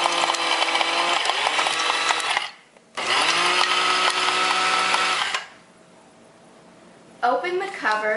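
A Chef Pro CPG701 wet and dry grinder runs in loud whirring bursts, stopping briefly and restarting, then cutting off to quiet before a final short pulse.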